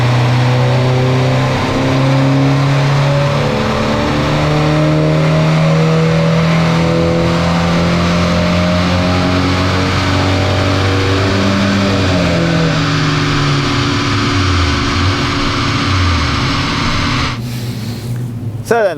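An Audi engine in fourth gear climbs from around 3,000 RPM on a dyno, its droning tone rising steadily and loudly over about seventeen seconds before the run cuts off abruptly near the end.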